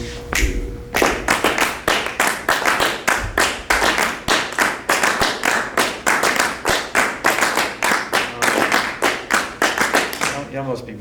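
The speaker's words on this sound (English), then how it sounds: "get the left half of the room to clap 3-2, and split it down here. The right half of the room, clap 2-3." A roomful of people claps 3-2 and 2-3 clave rhythms, with the two halves of the room interlocking in a steady repeating pattern of sharp, crisp hand claps heard at close to mid distance, with a voice speaking at the start.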